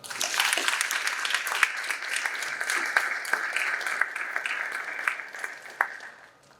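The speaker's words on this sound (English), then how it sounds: "Please join me in giving the three a much deserving and honorable round of applause." Sustained audience applause at a military signing day in a high school, honoring three recruits; dense, steady clapping from a crowd with a few sharper individual claps, fading slightly toward the end.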